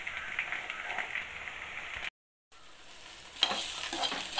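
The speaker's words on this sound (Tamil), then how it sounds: "முள்ளங்கி இன்னும் கொஞ்சம் வதங்கணும்," Radish pieces sauteing in hot oil for a chutney make a close, steady sizzle with stirring scrapes, broken by a brief silent gap before the frying resumes, no voices.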